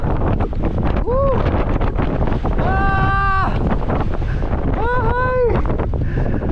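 Loud, steady wind buffeting the microphone on Mt. Balagbag throughout, with excited voices calling out over the roar.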